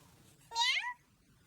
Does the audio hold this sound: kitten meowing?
yes